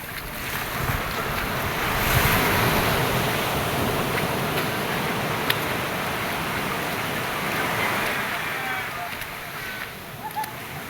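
Strong sea waves roar and crash continuously nearby, mixed with gusty wind buffeting the microphone.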